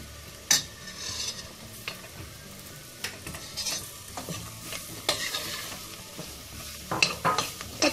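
Garlic and potatoes stirred into sizzling flour and oil in a pot for a milky potato soup, steady frying hiss broken by scraping stirs and occasional utensil knocks, close and alone without talk.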